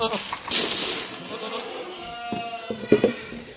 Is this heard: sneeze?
no